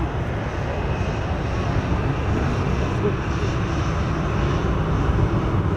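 A Jet2 airliner passing at Manchester Airport near runway 05L, a continuous broad engine roar at moderate distance, fairly even in loudness throughout, with no voices.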